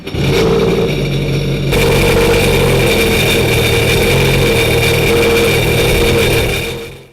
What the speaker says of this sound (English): Now obviously if we hit it again, it's going to start that engine.